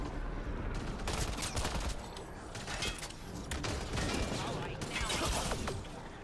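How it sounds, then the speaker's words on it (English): An automated gun turret fires in steady, clustered bursts at enemies during combat in the video game Mass Effect Andromeda, the rattling shots fairly close and dense with mechanical clanks between volleys. "Sounds like my turret's doing some work."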